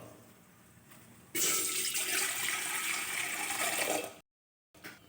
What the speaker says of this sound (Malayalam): ആ രണ്ട് ഗ്ലാസ് വെള്ളം നമുക്ക് അതിലേക്ക് ഒഴിച്ചു കൊടുക്കാം